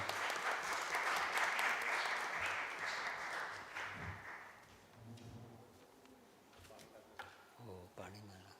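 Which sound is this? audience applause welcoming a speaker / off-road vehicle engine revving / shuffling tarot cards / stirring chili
audience applause welcoming a speaker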